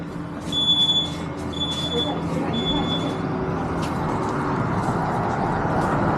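A door security alarm gives three short electronic beeps in quick succession over a steady, noisy background hum, with voices talking nearby.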